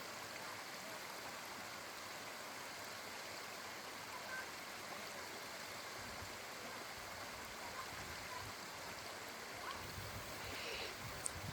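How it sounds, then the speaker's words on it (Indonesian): A clear, cold mountain river on the slopes of Mount Slamet makes a continuous broadband rush of flowing water that stays steady and fairly close throughout, with no talking. "kita langsung melewati aliran sungai. Airnya jernih dan dingin sekali. Gemerciknya bikin suasana pendakian terasa lebih hidup."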